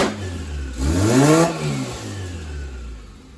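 A D-series engine swapped into a Honda Integra revs once, sharply rising and falling in pitch, loud and close with no talking, then settles back to a steady idle.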